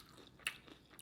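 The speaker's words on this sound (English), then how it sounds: "I didn't know it was gonna be crunchy like this" Quiet crunchy bites into a homemade samosa, two sharp crackling crunches close to the mic with faint chewing between, no talking.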